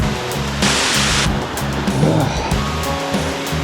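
A creek in the Blue Ridge Mountains, heard as a continuous broadband rush of flowing water close by, steady throughout with one brief louder surge.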